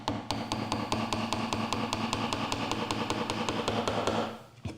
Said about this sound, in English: Just force it into the kerf. Tap it till it goes right to the bottom.